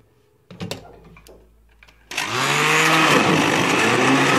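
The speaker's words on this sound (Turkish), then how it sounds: "Şimdi bir karıştıralım ve blenderdan geçirelim." After a few clinks and brief handling noises, a kitchen blender starts up loudly, whirring steadily as it purees figs and milk, and keeps running to the end.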